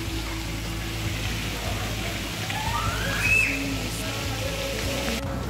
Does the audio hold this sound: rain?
yes